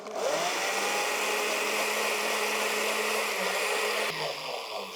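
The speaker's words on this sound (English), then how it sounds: "I'm using a normal blender today" A normal kitchen blender runs continuously at steady loud whirring, a brief dip near the end as the motor shifts, with no talking over it.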